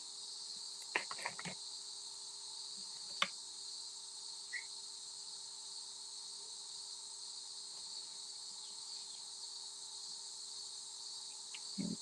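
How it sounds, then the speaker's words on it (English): Cicadas drone in a steady, shrill high-pitched whine that never lets up, with a few faint clicks and taps near the start. "It does sound like a kettle whistling, but it's cicadas."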